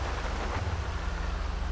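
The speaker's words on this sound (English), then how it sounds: "See if the storm passes." A steady, dense rainstorm hisses in GTA V, with a low rumble of thunder underneath. It sounds close and continuous, with no voices.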